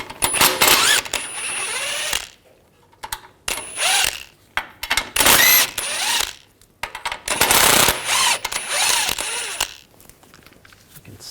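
A ratchet with a 15 mm socket removes suspension nuts on a 2009-2017 Volkswagen Tiguan, giving close, loud bursts of rapid clicking in repeated runs separated by short pauses.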